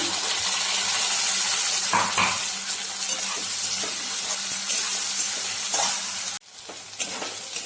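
Wet masala paste of ground spices with goda masala sizzles steadily in a hot pan for chole bhaji, with stirring scrapes throughout, close and loud, briefly cutting out near the end before resuming.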